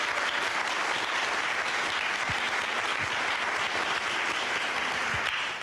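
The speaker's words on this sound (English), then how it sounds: "I do want you to give yourself a round of applause for being here today" Sustained applause from an audience at a school district back-to-school meeting, a dense steady wash of many hands clapping at constant loudness throughout with no speech on top.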